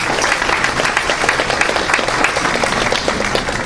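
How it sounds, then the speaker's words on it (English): Loud, continuous applause from a luncheon audience honoring a group of people, many hands clapping in a dense, even wash with no talk. "Please give them a round of applause."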